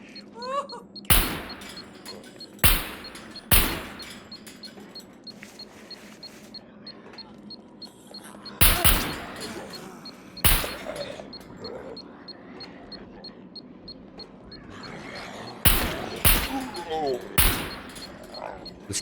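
Sharp gunshots in the survival video game Scum at an airfield, fired in a few separate bursts of single loud cracks with quiet gaps between them, as an enemy is killed.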